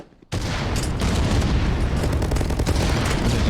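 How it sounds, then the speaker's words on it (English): Grenade blasts and gunfire in the video game The Finals, a loud, dense barrage of booms and rapid shots that erupts after a brief quiet start and keeps going without a break. "Grenades coming out."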